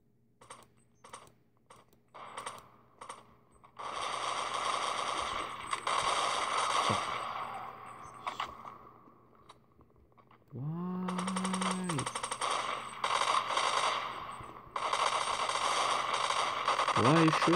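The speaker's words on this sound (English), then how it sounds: "Why are you shooting at me?" Counter-Strike 1.6 played on an Android phone, with sustained bursts of automatic gunfire and sharp single shots mixed with clicking game sounds, loud and close, while someone talks over it.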